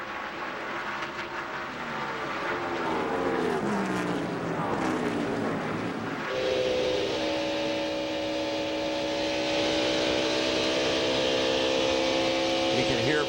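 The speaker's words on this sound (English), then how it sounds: "You can hear by the throttle response on Jarrett's car how quickly he can pick the throttle up." A NASCAR race car at the 2002 Samsung/Radio Shack 500 roars past loudly and then climbs into a steady, high-pitched engine drone as the throttle is picked up, while a commentator talks over it.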